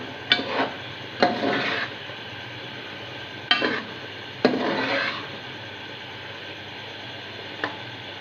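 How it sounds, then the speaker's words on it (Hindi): Spoon scraping and clanking through chicken tandoori karahi gravy with kasuri methi, green chilies and coriander in a metal pan, several distinct stirring strokes in bursts over a faint steady sizzle, with no talking. "और इसे अच्छा सा मिक्स कर लें।"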